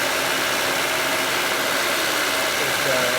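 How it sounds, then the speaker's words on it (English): Radiator cooling fan on a 1996 Honda Civic with a 1.6 engine, a steady broadband whir over a low idling engine hum, continuous and fairly close throughout. "As you can see, the fan now is turning on,"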